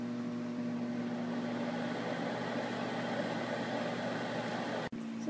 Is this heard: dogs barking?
no